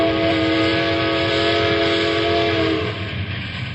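In a radio drama, a train rumbles along steadily while a loud, sustained multi-tone horn or whistle sounds for nearly three seconds before cutting off, leaving the rolling rail noise.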